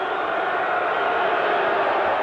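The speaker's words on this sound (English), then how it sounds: "Crowd comes alive" Basketball arena crowd at a 1984 Santa Clara versus UCLA college game, a dense sustained roar of cheering voices filling the space, loud and continuous.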